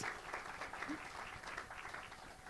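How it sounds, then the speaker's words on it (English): Audience applause at a live pitch event for a game studio team, a steady wash of many hands clapping that holds evenly from start to finish at moderate loudness. "Round of applause, please, for iHub Game Studio Series."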